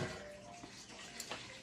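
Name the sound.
pouring whole milk into a pot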